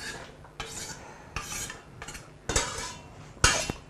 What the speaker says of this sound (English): you give a good stir to make sure the onions and the garlic are well impregnated with olive oil